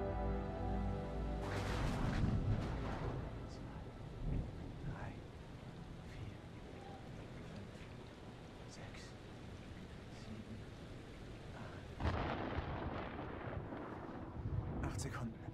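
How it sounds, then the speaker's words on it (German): A storm in the horror video game Man of Medan: a steady wash of rain with deep rolling thunder swelling near the start and again toward the end, and quieter game sounds scattered between. "Der Sturm ist 8 Meilen weg."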